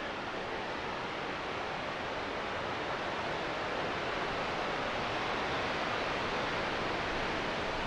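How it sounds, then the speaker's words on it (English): A waterfall on the Annapurna Circuit in Nepal roars as a steady, broad rush of falling water, constant and fairly distant, with no talk. "Another waterfall."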